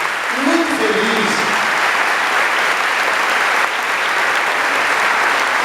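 A church audience breaks into loud, continuous applause, dense clapping filling the room throughout, with a brief voice heard near the start.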